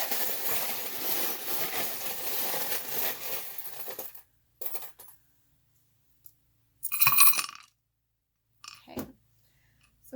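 Tarot charms and dice dropped and clattering onto a surface: a long dense rattle of small pieces at first, then a few separate short clinks and a brief clattering burst, with quiet gaps between, fairly close and without talk.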